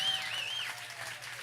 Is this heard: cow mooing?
no